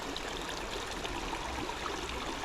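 Steady flowing water of a cold spring creek, a continuous close babble and trickle over rocks with no pauses, moderately loud and alone.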